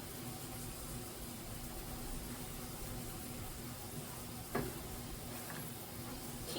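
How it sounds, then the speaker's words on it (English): A steady, faint crackling hiss of ricotta dipping sauce sizzling in a pan continues throughout, with a couple of soft clicks partway through. "it's going to continue to kind of sizzle after we take it off the heat"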